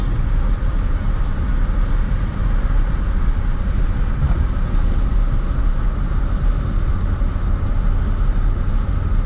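A car engine fitted with Holley Sniper S10 fuel injection runs steadily after a cold start, a constant low rumble and drone heard close up with no change in pace and no voices.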